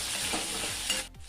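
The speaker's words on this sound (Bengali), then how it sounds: "এই একই তেলের মধ্যে দেবো কেটে রাখা আলু" Cut potatoes sizzle in hot oil with a dense, close frying hiss, accompanied by stirring, and the sound drops off abruptly near the end of the short moment.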